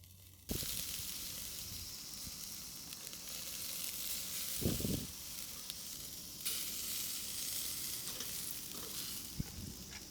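Pork belly sizzles steadily as it grills over charcoal, a bright continuous hiss with a couple of louder bursts as fat flares and brief handling sounds, no voices.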